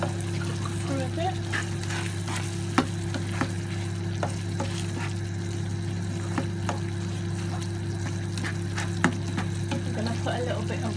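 Fish cooking in a pasta sauce in a pan with a little water, a steady close sizzle and bubbling under occasional scrapes and taps of a utensil stirring it.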